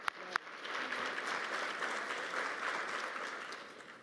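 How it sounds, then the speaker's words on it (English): Audience applause at a public administrators' forum, a few sharp claps starting before a steady wash of clapping from a moderate crowd, fairly distant and soft. "Give her a round of applause"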